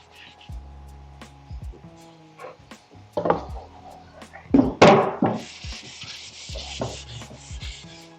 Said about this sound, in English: We're finishing this in 220 sandpaper